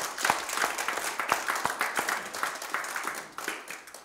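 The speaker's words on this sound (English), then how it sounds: "Give the Lord a hand clap." Congregation in a community church gives a hand clap during a Sunday service, a lively burst of many hands clapping with sharp individual claps standing out, fading slightly toward the end.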